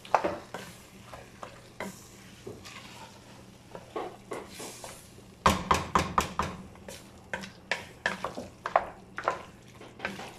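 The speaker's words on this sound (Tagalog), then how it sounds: "stir na lang natin yun. Halo-haloin." A spoon scrapes and clanks against a pot while chicken biryani is stirred, with a soft sizzle underneath; irregular strokes come first, then a quick run of sharp clatters and steady rhythmic stirring, close and clear.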